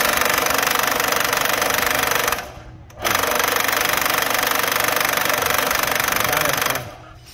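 Ryobi table saw, around 22 kg, powered up for a test run: a loud, steady mechanical whine that cuts off near three seconds, restarts and winds down again near the end.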